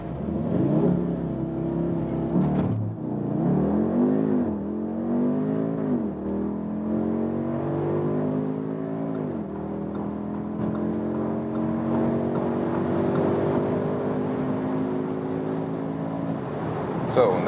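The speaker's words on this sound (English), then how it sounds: "So that's the launch control from 0 to 190." Audi SQ2 launch-control start from standstill with full throttle, engine pulling hard through rising gear sweeps and brief shift dips, loud and continuous from inside the cabin, with voices talking over it.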